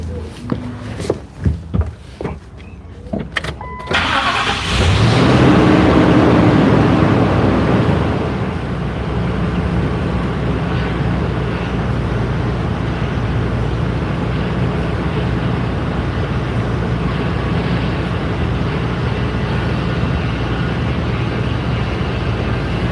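Engine of a 1996 Ford F150 pickup truck starts after a few sharp clicks, then catches with a loud surge and settles into a steady, close, continuous running drone with no talk over it.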